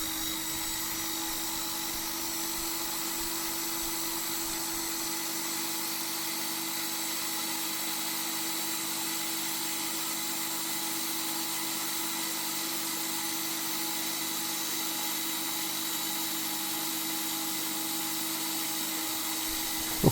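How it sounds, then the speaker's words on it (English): A Makita hand drill spinning a corundum grinding stone sharpens hard tungsten electrode tips for a spot welder, giving a steady, even high-pitched whir that runs unbroken for about twenty seconds, close and alone. "For sharpening, I use my good old Makita hand drill with a corundum grinding tool."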